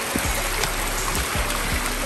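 A shallow stream running beside a fruit orchard, a steady broad rushing and trickling wash of water heard close and continuous, with a few soft knocks underneath.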